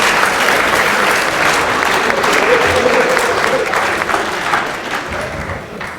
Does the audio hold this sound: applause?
yes